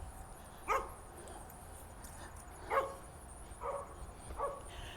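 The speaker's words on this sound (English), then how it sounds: "He barks at me every time." A dog barks four times at fairly regular intervals, a little distant, over a quiet background hiss.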